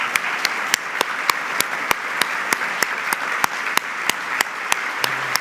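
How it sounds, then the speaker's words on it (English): Audience at a regional development conference in Appalachian Ohio applauding, a steady run of sharp, close individual claps punctuating a soft wash of clapping, with no talk over it. "I'd really like to take a moment for everyone to just stand up and give Mark a round of applause"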